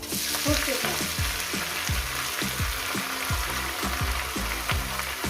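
Leafy greens fry with garlic in a pan, a loud close sizzle broken by regular scraping stirs of a spatula at a steady rhythm, with no voices.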